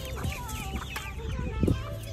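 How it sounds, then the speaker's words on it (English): Chickens cluck outdoors in short, irregular bursts of close, fairly loud calls, with a few overlapping voices from the flock. "Oh, there's chickens!"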